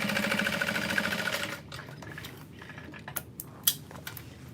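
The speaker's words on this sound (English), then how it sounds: "then I fold it down and top stitch through the bottom" A sewing machine top stitches through the bottom of a backpack pocket, a loud, fast, even mechanical whirr for about a second and a half, then stopping and giving way to quieter handling clicks and taps.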